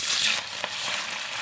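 Hilsa fish rubbed with salt and turmeric frying in hot oil in a kadai, giving a continuous bright, crackling sizzle with small pops and no voices.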